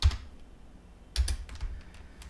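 Computer keyboard typing while working in Rhino 3D software: a single soft keystroke, then a short cluster of several quick, close, quiet key taps.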